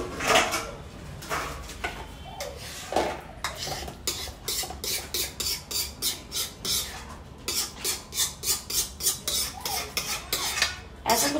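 Hot halwa being scooped from a pot into a storage container in a home kitchen: repeated rhythmic scraping and clinking of a spoon against metal, steady and close, with no talking.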